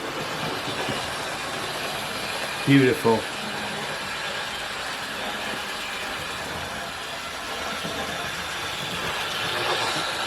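Steady mechanical rumble and hum of a Hornby Schools Class Eastbourne model train running along the track, with a brief spoken word partway through.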